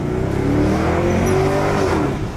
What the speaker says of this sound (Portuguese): vamos dar uma volta no Camaro mais novo